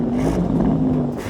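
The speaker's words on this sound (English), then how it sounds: "Go on, rev up the Porsche." Porsche Panamera Turbo S engine revving at a drag race lineup, a loud, close, sustained throaty growl that rises and holds for a short burst.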